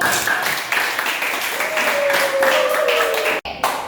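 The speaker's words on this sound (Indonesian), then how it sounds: "kita berikan aplaus untuk" A classroom full of students applauds after a group presentation, a dense wash of clapping that swells and holds before cutting off briefly near the end.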